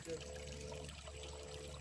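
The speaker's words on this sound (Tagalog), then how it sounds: "this is a natural spring" Water from a natural spring trickling steadily outdoors, a soft continuous wash close by with faint low background hum.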